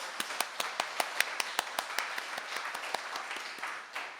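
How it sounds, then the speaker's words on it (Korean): A church congregation at an early morning worship service claps together in a regular, evenly spaced beat, moderately soft and fading slightly at the end. "좋으신 하나님께 이 시간 큰 박수로 영광을 드리겠습니다."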